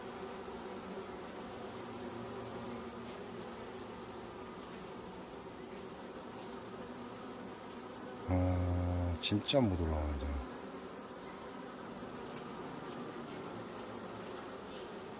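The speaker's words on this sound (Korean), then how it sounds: "계속해서 말벌은 들어옵니다" Hornets and honeybees hum in a steady, dense drone at a beehive entrance beside an outside feeder, with one louder, closer buzzing burst partway through and someone speaking briefly.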